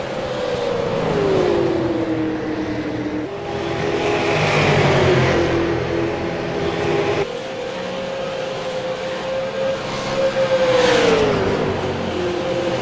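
Race cars at a Friday-night All-Star bump-and-run race at Iowa drone and whine as they circle the track, engines rising and falling in pitch as they pass. Several cars sound close and loud over a constant background roar.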